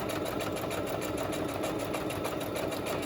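A sewing machine stitching through paper craft pieces runs steadily and close by, a fast even mechanical whir with a regular pulsing rhythm that continues throughout without any voices.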